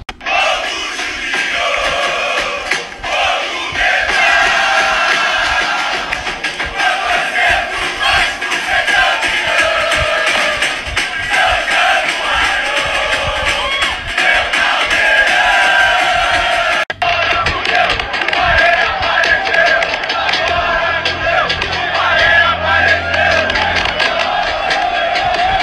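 A huge crowd of Vasco da Gama supporters chants and cheers loudly and without a break for Payet's arrival, a dense, roaring wall of voices that fills the whole stretch.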